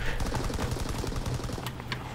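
Rapid automatic gunfire in a video game: a dense, continuous burst of shots at a steady, fast rhythm, loud and close, with no talk over it.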